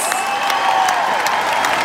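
A large arena crowd at a concert at SAP Center, San Jose, applauds and cheers, with loud, steady clapping over sustained keyboard tones from the band.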